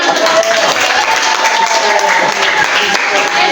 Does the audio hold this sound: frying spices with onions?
no